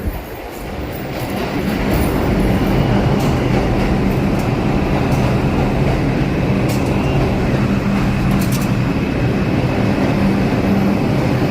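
A subway train rumbles into Bowling Green station and grows steadily louder, a dense mechanical roar with faint rail clatter, filling the station for several seconds.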